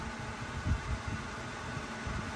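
A 400 watt portable air conditioner runs at a camping spot, giving off a quiet, steady fan-like whir with no pauses.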